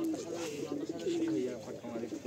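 Pigeons coo softly in a loft early in the morning, low repeated warbling calls running steadily under faint background noise and indistinct voices.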